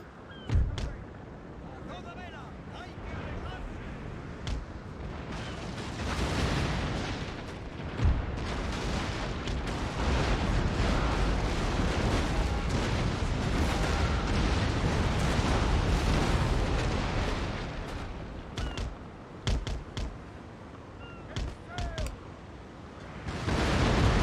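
In Napoleon: Total War, ship cannons fire on a brig: deep booms and cracks come repeatedly over a dense, rumbling roar of continuous fire that swells in the middle and thins into scattered shots near the end.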